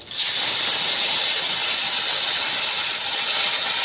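Water poured into a hot pan of panch phoron seed spices, while cooking small bata fish, bursts into a loud, steady, sizzling steam hiss that holds without pause and without voices.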